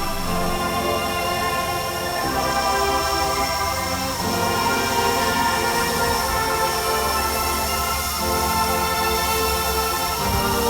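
Steam locomotive 3801 fills the scene with a loud, continuous rumble and a sustained tonal hiss or whistle that holds steady without a break.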